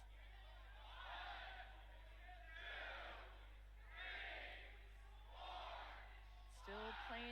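Crowd noise swells in repeated waves from spectators at a Pokémon tournament, loud and roomy, with a sustained low hum underneath and a short vocal snippet near the end.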